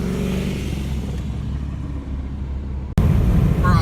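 Cars race on a highway, their engines rumbling and revving at a distance before a sudden loud burst of close engine noise as a car surges past.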